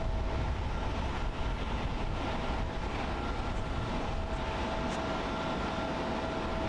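An ANA Boeing 777-200 in Star Wars C-3PO livery moves at Haneda Airport in Tokyo, heard as a steady broadband jet roar with a faint whine, continuous and at moderate distance.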